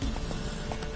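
Roach, a horse in The Witcher 3, gallops in a steady clip-clop of hooves that fills the short moment, loud and close.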